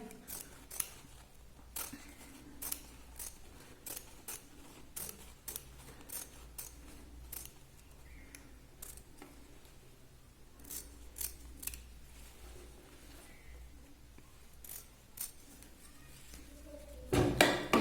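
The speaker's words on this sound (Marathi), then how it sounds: "आधी त्याला मधून आपण कट करून एक लॉंग जी पट्टी आहे ती काठाची तयार करून घेऊया" Scissors snip steadily through blouse fabric, cutting a long border strip from the middle, with a string of close, crisp metallic cuts in an irregular rhythm against a quiet room.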